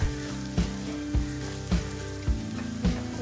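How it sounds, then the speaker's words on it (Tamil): Chopped tomato sautés with shallots in a pan, a steady sizzle punctuated by about six evenly spaced stirring scrapes, close and alone without speech. "நான் கட் பண்ணி வச்சுருக்க ஒரு தக்காளியை வந்து இதில் நான் சேர்த்துக்கிறேன். சேர்த்து நல்லா வதக்கணும்."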